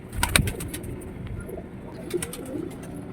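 Pigeons cooing nearby, with a few low throaty coos and some wing flutters at the start, then softer intermittent calls against faint outdoor background.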